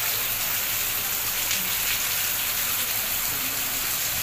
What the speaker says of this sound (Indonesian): ini sudah turun hujan lebat disertai dengan abu lumpur ini